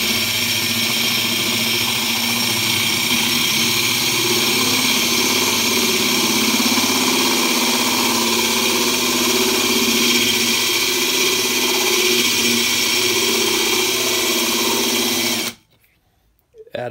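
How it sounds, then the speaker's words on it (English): A drill bit cuts steadily through a glass bottle, with water added to the cut for cooling as part of a DIY bong kit, giving a loud continuous motor whine with grinding that runs unbroken before stopping abruptly near the end. "dip it in the water, and start drilling."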